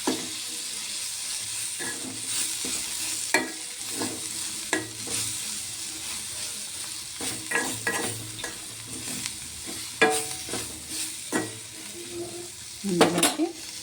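A broad bean curry with a pinch of turmeric is stirred in a pan while it sizzles, with repeated scraping and metal clinks of the spoon against the pan over a steady frying hiss.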